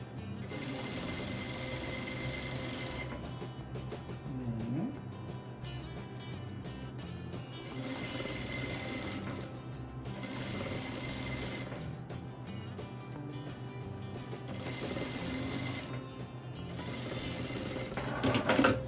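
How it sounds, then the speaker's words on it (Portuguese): A sewing machine stitches a half-centimeter seam along floral fabric for a table runner, running in steady whirring bursts separated by short pauses. Nobody speaks. "vou passar uma costura a meio centímetro de ponta a ponta"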